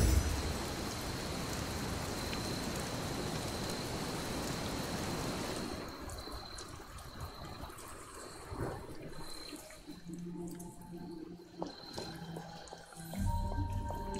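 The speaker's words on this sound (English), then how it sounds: "Finally got our rain." Rain in the video game Marvel's Midnight Suns, a dense steady hiss of falling rain that cuts off after about six seconds, giving way to quieter scattered drips and faint tones.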